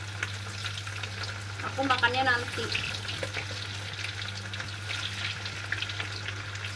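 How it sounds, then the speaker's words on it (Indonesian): Tempeh frying in a pan gives a steady crackling sizzle throughout, with a soft stirring scrape and a short spoken remark partway through. "sekarang kita mau goreng si tempenya dulu guys"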